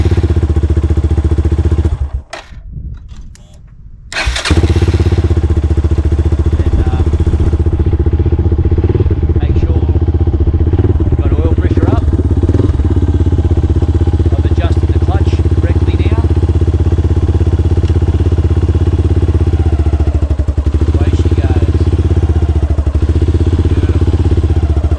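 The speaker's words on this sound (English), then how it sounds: "Obviously just do a few little starts just to get the oil pressure up." A Yamaha XT250 motorcycle engine after a clutch replacement turns over briefly, then starts and settles into a loud, steady idle nearby, with a voice talking over it.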